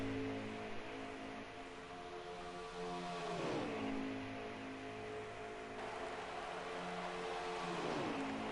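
Race cars in a racing video game rev loudly and steadily, engine tones rising and then dropping sharply around mid-clip and again near the end, with no talking over them.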